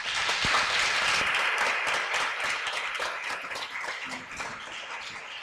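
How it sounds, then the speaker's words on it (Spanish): Audience at a school TED-style education talk event at a secondary school in Azuaga applauds a speaker, steady dense clapping filling the room for several seconds and slowly easing off. "Fuerte aplauso para Laura Juidías González"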